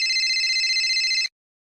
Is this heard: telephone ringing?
yes